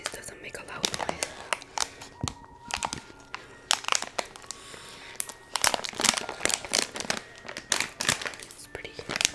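A crinkly snack bag of coconut almonds is handled up close, giving repeated sharp crackles and rustles in irregular bursts while someone whispers softly between them.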